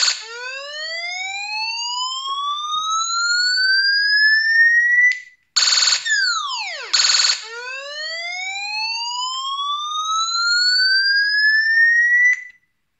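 A homemade electronic bird scarer gives off a loud rising siren, sweeping upward repeatedly with a brief burst of falling warbles in the middle, then resumes its steady upward sweeps before cutting off.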